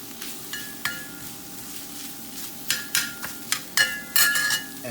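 Vegan sausage sizzles in a pan while a spatula stirs and scrapes it, with a steady frying hiss broken by a series of sharp utensil clinks and scrapes that come closer together toward the end.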